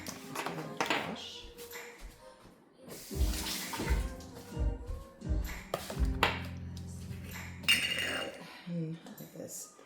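Tap water running while something is washed in a kitchen, with splashing bursts, clinks of dishes or utensils, and a person talking between the spells of water, all close and moderately loud.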